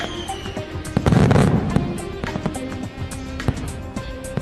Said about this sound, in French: ce n'est que le spectacle de feux d'artifice enchanté